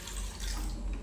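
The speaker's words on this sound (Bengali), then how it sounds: "একটু জল দিয়ে দিই।" Water is poured steadily in a kitchen, making a continuous, close rushing splash that stays at an even level for a brief moment.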